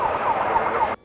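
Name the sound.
sirens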